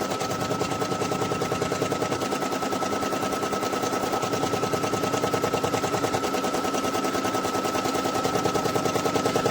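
An embroidery machine stitches a patch over water-soluble stabilizer, giving a fast, steady, loud mechanical clatter that repeats evenly and never pauses.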